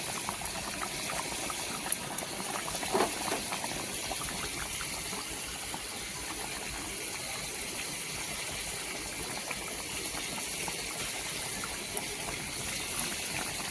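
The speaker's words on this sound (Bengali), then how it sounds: "ঝোলটা পুরো ফুটে গেছে টক বক করে ফুটছে" A pot of fish curry broth with fried rohu pieces in it bubbles at a steady rolling boil, a soft continuous burble with small pops and no voices.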